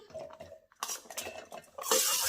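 Chopped bottle gourd is tipped into a steel mixer jar, giving a few close clinks and knocks of metal followed by a brighter rattling clatter, no speech.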